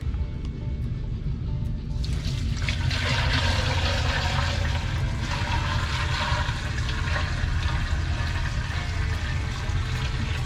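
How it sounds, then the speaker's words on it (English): Water pours and gurgles steadily into an antique 6 hp hit-and-miss engine with a cracked gasket, over a low rumbling engine drone, close and continuous for several seconds. "Put a little water in this thing and see what happens."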